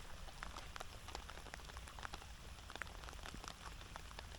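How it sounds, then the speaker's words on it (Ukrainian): Steady rain patters on a surface by the Dnieper river during feeder fishing, a dense, even hiss with scattered droplet ticks throughout, fairly quiet and continuous. "А дощ уже реально задовбав просто."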